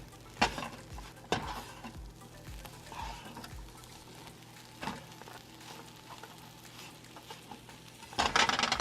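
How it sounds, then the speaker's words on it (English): A spoon stirs a couscous and chickpea mix in a pot, with a few sharp scrapes and knocks against the metal early on, then soft shuffling, and a louder rattling clatter at the end. "now that it is all in there, you just want to mix it all up"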